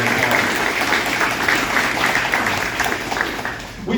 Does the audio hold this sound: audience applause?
yes